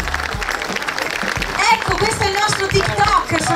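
An audience applauds at the Miss Venice Beach 2022 beauty pageant final in Sottomarina, Venice, with loud clapping mixed with voices and cheering, rising in the second half.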